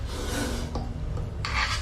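A large cobra, about two meters long, hisses with a steady breathy rasp close by, ending in a sharper, brighter burst of hiss.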